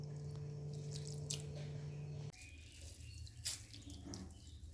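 Wet, squishy sounds of grated potatoes being squeezed by hand to press out their water, with a trickle of liquid dripping into a bowl; close and fairly quiet, alone without talk.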